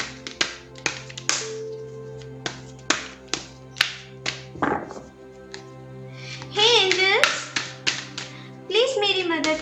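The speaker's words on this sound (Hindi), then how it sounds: "चलिए पहले जरा कार्ड्स को शफल कर लेते हैं।" Tarot cards shuffled close up, a run of sharp separate taps and flicks followed by a couple of longer riffling bursts, with no talk over them.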